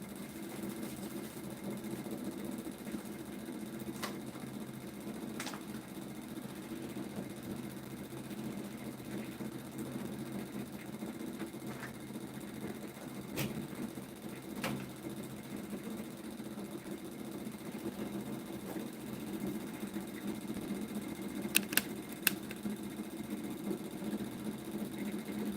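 A homemade pulse motor with a black spinning rotor, running with a steady, even hum and buzz throughout, broken only by a few faint clicks and ticks, with no talking.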